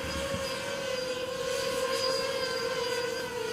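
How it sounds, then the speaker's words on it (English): A combat drone flying as it searches for a target, heard as a steady droning engine whine with a sustained tonal hum, moderately faint and continuous without pauses. "The drone General Chereshnya is flying in search of a target."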